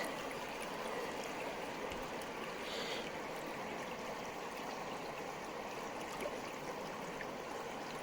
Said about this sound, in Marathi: हे पाणी तर पाणी एकदम फ्रेश असतं व्हाळाचं